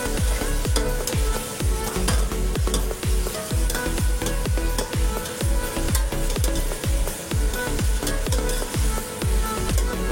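Chicken frying in a pan with red chili and salt, a loud continuous sizzle broken by steady rhythmic stirring scrapes about every half second, close up with no talking.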